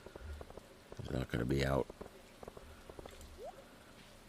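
Rain in the video game Stardew Valley, a soft, steady patter with scattered drops, faint beneath someone talking over it.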